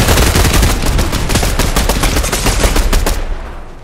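Rapid gunfire in the video game Fortnite, a dense burst of many shots in quick succession, loud and close, continuing for several seconds before trailing off at the end.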